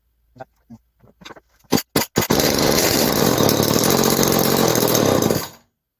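A restored 1970s Homelite XL chainsaw coughs through a few sharp pulls and pops, then catches and runs loud and close at a steady roar for about three seconds before cutting out abruptly as it fails to idle.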